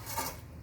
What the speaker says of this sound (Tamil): இது அப்படியே நல்லா ஒரு கிளறி,